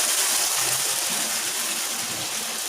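Water gushes into a pot of cooking haleem, a steady loud broadband pour with no pauses, no voices over it.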